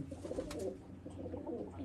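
A large pigeon at a Punjabi pigeon loft gives low, steady cooing, a soft murmuring call that continues close by throughout with no pauses.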